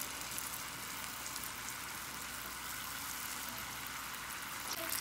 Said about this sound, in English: Now I'm gonna start frying these babies up.